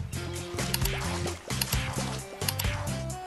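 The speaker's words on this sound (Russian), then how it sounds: "Наливаем аккуратненько, не свинячим тут рукам." Liquid is poured carefully in an animated cartoon scene, with gurgling, trickling and dripping sounds over a busy musical background.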